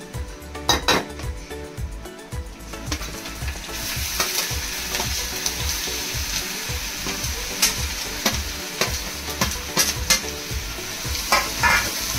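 Spoon stirring grated fresh coconut through melted jaggery in a pan over lowered heat, a steady scraping and sizzling with repeated clinks of the utensil against the pan, close and continuous.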